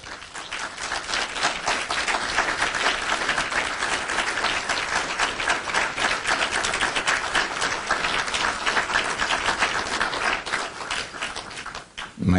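Sustained, dense audience applause after a keynote speech at a 2011 CSWA event, an even wash of many hands clapping that continues for several seconds before tapering off at the end.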